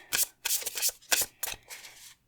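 A deck of tarot cards is riffled and shuffled close by in several quick, crisp bursts separated by short pauses, with no talking.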